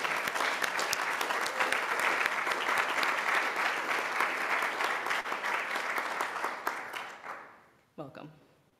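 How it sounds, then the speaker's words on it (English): A church congregation applauds to welcome new members during a worship service, sustained dense clapping that tapers off near the end, followed by a brief voice. "Can we get a round of applause to welcome Taylor, Sarah, and Liz?"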